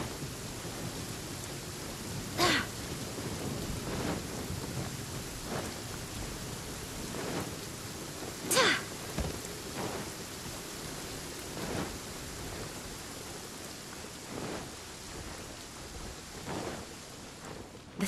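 Steady rain falls with two sharp, close thunder cracks and several softer rumbles in the video game Genshin Impact, the downpour an unbroken hiss throughout.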